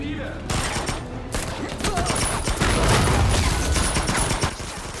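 A gunfire exchange between Soviet and German soldiers inside a building: dense, rapid bursts of shots crackle continuously and loudly throughout.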